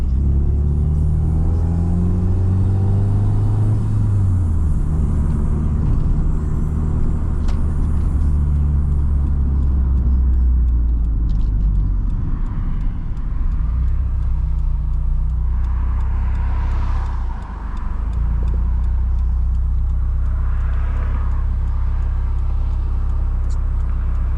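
2006 Subaru WRX Wagon driving around the block, its engine rumbling steadily from inside the cabin with low road noise and gentle revving as it accelerates and shifts.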